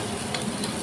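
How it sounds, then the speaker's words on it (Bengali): Onions frying in mustard oil for a mutton biryani, a steady close crackling sizzle with faint stirring, heard alone over a short stretch. "পেঁয়াজটা ভাজা হয়ে গেছে"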